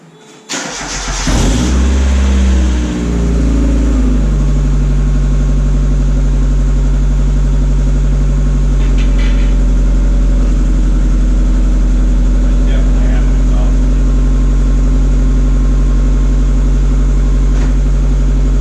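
A Mazda Miata engine fires up for the first time through a cheap eBay exhaust, cranking briefly then catching into a loud, steady idle that drones on close by, with faint voices over it.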